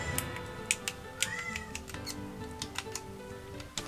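Several short, faint cat meows in a quiet indoor room, spread over a few seconds among light ticking and clicking sounds, with no talking.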